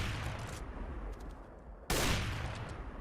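Dense gunfire from the video game CS:GO, a loud continuous burst of shots with a sharp, louder volley partway through, no speech over it.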